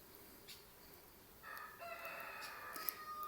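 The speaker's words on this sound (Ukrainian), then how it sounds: "І петушок співає." A rooster crows somewhere in a village garden in June, a single drawn-out call rising from about midway and carrying on to the end, moderately faint and set against quiet outdoor background.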